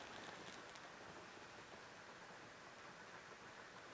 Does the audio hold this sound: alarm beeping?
no